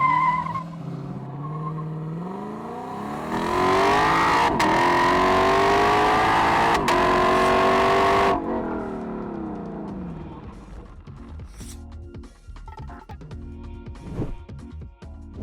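A 2021 Lexus LC500 accelerating hard in a 0 to 100 test: a loud engine climbs through the gears with brief shift breaks, then winds down and fades into lighter road noise.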